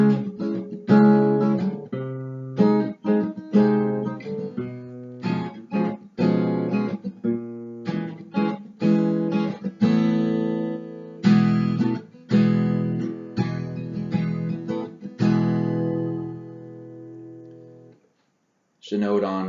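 Guitar strums the chords of a song in a driving rhythm at full tempo, sharp repeated chord hits with short gaps, loud and close, ending on a ringing chord before silence.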